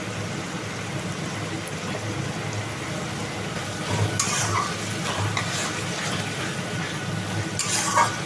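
Ginger-garlic paste hitting a pan of frying tomato and green chilli masala gives a steady low sizzle with stirring scrapes, louder bursts of spatter near the four- and eight-second marks, no talking.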